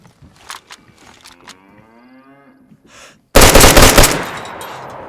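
Gunfire in the survival game DayZ: after a quiet stretch of game ambience with faint tonal sounds, a loud burst of rapid automatic shots erupts and rattles on for nearly two seconds, close and harsh.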